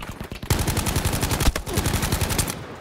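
Rapid automatic gunfire in Battlefield V team deathmatch, a loud continuous burst of closely spaced shots after a brief opening volley, with no talking.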